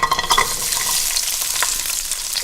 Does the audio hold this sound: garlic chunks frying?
yes